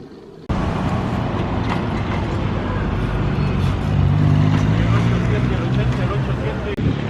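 Motorbikes with small engines rev along a street in San Jose, Costa Rica, a steady mid-distance engine drone that swells louder partway through over busy traffic noise.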